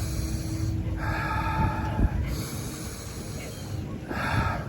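A person breathes in through the nose and out through the mouth, with slow, close, audible inhales and exhales and a soft snorting quality.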